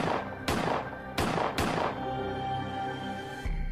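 Several sharp gunshots crack in an uneven burst, three close together near the start, then a fainter one later, each with a ringing tail over a sustained musical backdrop.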